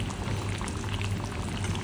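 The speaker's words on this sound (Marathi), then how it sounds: "तर आता हे 2-3 मिनटे मी असंच उकळून घेते" Pomfret fish curry bubbling steadily in a pot on the stove, a continuous soft simmering hiss with small popping bursts, close and alone without any talk.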